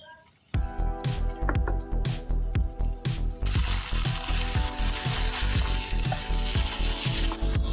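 Taro stolons with hilsa fish head stir-fried in a pan over a medium flame, loud steady sizzling from start with rhythmic scraping strokes of the spatula repeating throughout, close by and without talk.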